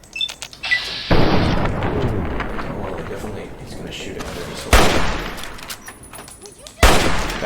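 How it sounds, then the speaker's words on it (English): Missile launcher fire in Fallout 3 lands as a series of loud booming explosions, three heavy blasts spaced several seconds apart with rumbling debris between them, while a voice talks over them. "This guy's got a missile launcher?"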